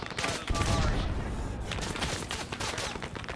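Dense Arma 3 gunfire in a Vietnam-era battle at LZ X-Ray, with rapid overlapping rifle and machine gun bursts and heavy thumps, loud and continuous throughout, mixed with a voice.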